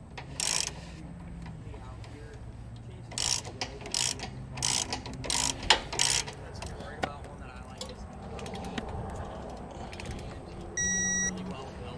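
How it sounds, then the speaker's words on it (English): A ratchet with a 9/16 inch socket clicks in short bursts while tightening the bolts of a Curt trailer safety chain holder bracket, the ratcheting close and fairly quiet with gaps between strokes. "we're going to need a 9/16 inch socket and ratchet and a 9/16 inch wrench in order to be able to tighten this down"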